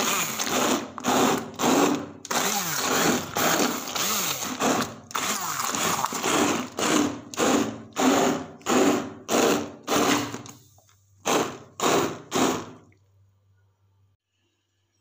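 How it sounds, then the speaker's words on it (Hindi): An electric blender purees tomatoes for tomato sauce, running loud in a long series of rhythmic pulses with short pauses between. It stops near the end, leaving a faint low hum and then near silence. "देखिए इस तरीके से हम इसको ब्लेंड करेंगे।"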